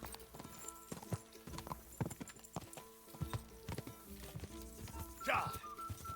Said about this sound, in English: O cavalo dele é rápido, mano.